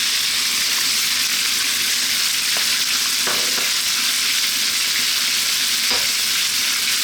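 Peanuts and onion frying in a pan for Thai stewed chicken, a loud, continuous close sizzle with a few faint scraping stirs of the spatula.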